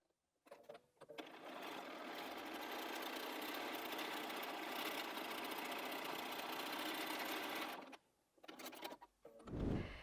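A sewing machine quilts along a cushion seam in one long, steady, close whirring run of about seven seconds, stops, then gives a short second burst before a soft handling thump.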